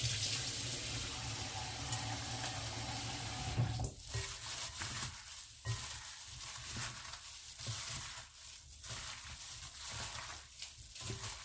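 Pimento seed is rinsed under running water, a steady close hiss of flowing water with fluctuating splashy texture as the seeds are washed, fairly faint overall.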